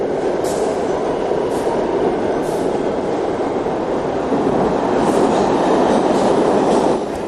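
A New York subway train on the number 1 line rumbles steadily through the 18th Street station, loud and continuous, with faint high wheel squeals rising at intervals.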